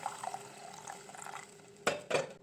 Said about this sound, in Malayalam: നമ്മൾ മീൻ വേകാൻ ആവശ്യമുള്ള വെള്ളം ഒഴിച്ച് കൊടുക്കുക